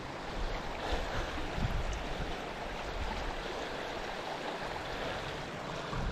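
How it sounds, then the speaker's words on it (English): The East Branch of the Deerfield River in the Somerset Wilderness of the southern Green Mountains, flowing as a steady, broadband rush of water with no voices and no pauses. "here's the beautiful branch of the Deerfield River"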